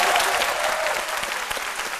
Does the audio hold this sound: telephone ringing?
no